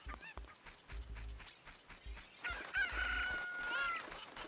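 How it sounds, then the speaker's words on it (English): Chickens cluck and a rooster crows in Ocarina of Time 3D, a busy run of chirpy fowl calls that ends in a long crow, fairly faint overall. "Crimmy's having a little hard time handling all these chickens"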